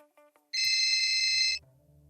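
A ringing sound effect in a Honey Heist tabletop role-playing session sounds once as a steady, bright electronic ring lasting about a second, loud and alone against near silence.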